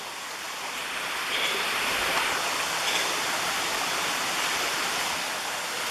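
Steady rushing water of a small brook with little waterfalls in the NC South Mountain Gamelands, a continuous broadband splash and gurgle at close range, with no voices.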